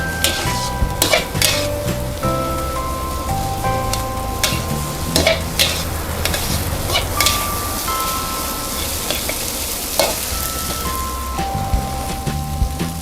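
Shrimp fried rice with Chinese kale, oyster sauce and chili sauce is stir-fried over high heat, with close sizzling and repeated metal spatula scrapes and clinks against the pan while soft music plays underneath.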